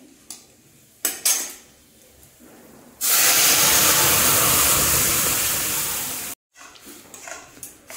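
Dal tipped into a pan of fried dried red chili, cumin and ginger sets off a loud, hissing sizzle lasting a few seconds, preceded by metallic clinks of utensils and followed by quieter scraping.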